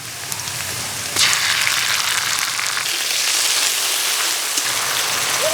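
Chili paste spattering into hot oil with fried onions for a rui fish and cauliflower curry: a close, continuous crackling sizzle that swells louder after the first second and holds steady, with no talking.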